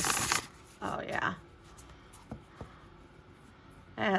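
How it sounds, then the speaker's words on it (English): Cards riffle and shuffle in a few quick bursts up close, with short clicks and quieter pauses between. "It has a very nice shuffle to it."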